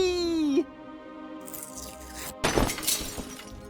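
Stained glass window shattering in a video game as birds strike it, a sudden crash of breaking glass with scattered tinkling pieces, preceded by a brief high wailing tone.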